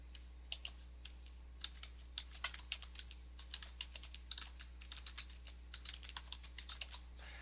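A computer keyboard being used to type a domain name, with irregular quick key clicks scattered over several seconds above a low steady hum, close and moderately quiet with no talking.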